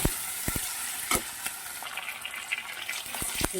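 Cumin and grated ginger frying in a pan: a continuous close sizzle broken by sharp clicks and knocks of a spatula stirring against the pan.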